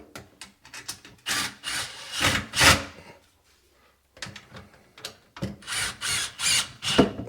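Hand tightening of a plastic slip nut on a sink drain, with close ratcheting, scraping clicks in two bursts of several turns each and a brief quiet gap between them.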